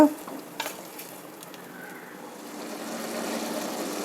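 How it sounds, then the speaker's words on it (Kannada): Tomato puree and field beans bubbling in a pan on the stove, a steady soft sizzle that swells gradually over a few seconds, with a couple of faint clinks near the start and no talking. "ಚೆನ್ನಾಗಿ ಕುದಿಸ್ಬೇಕು ಈಗ"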